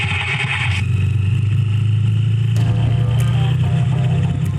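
A custom-built motorcycle engine and exhaust rev loudly and close up. They give a deep, rumbling idle that swells into throaty revs, with a sharp rise midway, and the sound runs steady and alone throughout.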